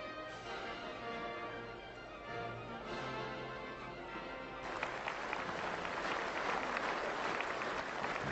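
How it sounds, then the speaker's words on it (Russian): A large crowd applauds at the 1982 May Day parade in Moscow, a sustained, distant-sounding roar of clapping that swells louder partway through, heard over a faint steady tone. "Бурными, долго не смолкающими аплодисментами приветствуют москвичи и гости столицы руководителей Коммунистической партии и Советского государства"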